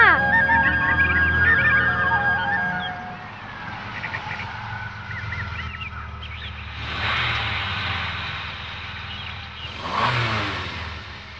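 In a Telugu film scene near a mango orchard, a car engine revs while the car stays put. A steady engine hum swells into two strong revving bursts, and the pitch climbs and falls with each push on the throttle.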